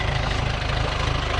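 Sea-Doo HX personal watercraft engine idling, a loud, close, steady low rumble with a rapid pulsing throb across the whole short stretch, no voices.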